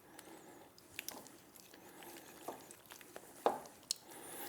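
Hands mixing sticky sourdough bread dough in a bowl, giving soft squelching and scraping with a few sharper clicks and taps, fairly close and quiet, with no talking.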